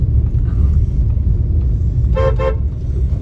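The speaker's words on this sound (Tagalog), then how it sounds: "Tapos mag-horn ka dyan kasi baka may makasalubong tayo." Two short car horn toots in quick succession on a narrow road, sounding close over a steady low vehicle rumble.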